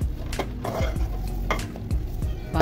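Grated carrot halwa is stirred and fried in melted ghee in a pot, a soft sizzle running under repeated scraping and clinking of a spoon against the metal, steady and close.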